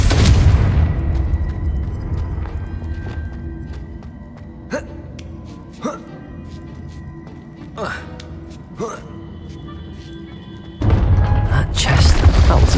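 The Confringo blasting spell in Hogwarts Legacy goes off with a sharp explosive burst, followed by several brief impact thumps and crackles, then a loud rumbling swell near the end.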